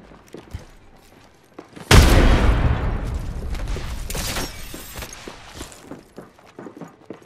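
A frag grenade explodes in the video game Apex Legends, a sudden loud boom that decays slowly amid scattered gunfire and footsteps, with quieter shots and movement before the blast.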